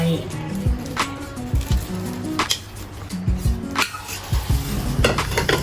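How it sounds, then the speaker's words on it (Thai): A spoon stirs a honey-lemon mixture of real honey, lemon, salt and water in a bowl, making repeated clinks and scrapes against the sides while a person talks over it. "คนส่วนผสมให้เข้ากันดีก่อน"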